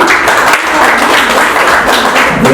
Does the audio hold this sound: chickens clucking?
no